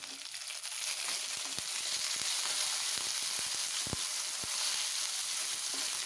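Sliced eggplant with softened onions frying in a pan for a traditional Tamil karuvadu kulambu, a steady close sizzle running throughout with scattered soft crackles and pops.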